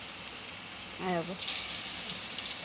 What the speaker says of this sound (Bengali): তেল গরম হয়ে গেছে, কড়াইতে দিয়ে দিই